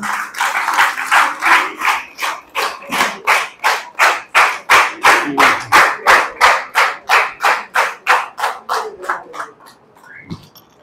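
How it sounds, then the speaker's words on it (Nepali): An audience at a church gathering in Kanchanpur, Nepal claps in unison to welcome a pastor, about thirty loud, evenly spaced rhythmic claps that fade and stop near the end. "हामी ताली बजाएर स्वागत गर्नेछौँ"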